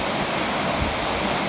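Mountain water stream rushing near McLeodganj in Himachal, India, a dense, steady, loud wash of flowing water close by, with no voices.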